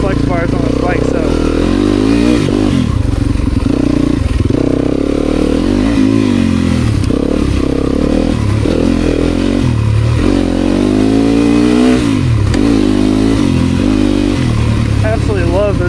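A Yamaha YZ two-stroke dirt bike ridden on an enduro trail, its engine loud and constant as it revs up and down through the throttle and clatters over rough ground.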